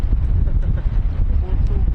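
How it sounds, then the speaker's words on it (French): Strong wind buffets the microphone outdoors in a desert stretch of a cross-country cycling race, a loud continuous low rumble with gusting swells throughout. "Mais le vent, c'est chiant. J'entends rien."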